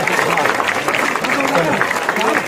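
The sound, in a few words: audience applause at a village welcome ceremony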